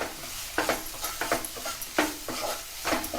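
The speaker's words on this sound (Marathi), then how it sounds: "मसाले टाकल्यावर तर असा ढवळून घेऊया." Spice masala being stirred in a cooking pan for a stuffed brinjal curry, with repeated scraping and sizzling strokes at a steady rhythm, close and moderately loud, no talking.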